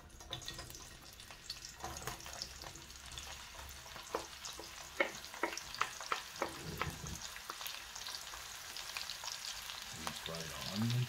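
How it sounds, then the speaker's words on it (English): Onions fry in a pan with a steady close sizzle, broken by scraping and clinking stir strokes at an irregular rhythm, and a louder burst of hissing toward the end. "Fry the onions."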